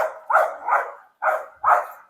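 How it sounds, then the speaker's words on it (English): Several dogs that dislike each other bark in four loud, close, evenly spaced woofs, outdoors near a yoga session in Sanlitun, Beijing. "There's some dogs that don't like each other, so they're barking crazy right now."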